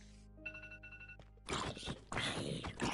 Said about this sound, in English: I don't know why I had an alarm set on my phone.